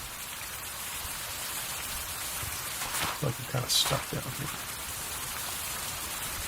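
Continuous rainfall in the survival game Survival: Fountain of Youth, a broad steady hiss of drops on surfaces that runs throughout while someone speaks briefly over it midway.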